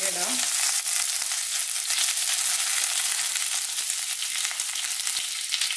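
Green chilies dropped into hot oil with popped mustard seeds for bitter gourd thoran, frying in a loud, steady, close-up sizzle with an initial burst of crackling.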